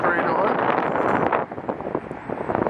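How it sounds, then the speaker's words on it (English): Strong gusty wind roars and buffets loudly across the microphone on a street in Dallas, Texas, easing briefly before rising again. "crazy windy today"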